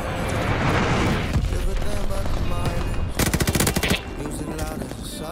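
Video game gunfire, loud rapid automatic bursts and single shots in a shooter match, with a dense burst of machine-gun fire near the middle; someone talks excitedly over part of it.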